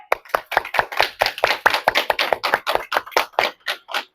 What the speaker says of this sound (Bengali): আজকে একটা জোরে হাততালি দেব না হাততালি দাও জোরে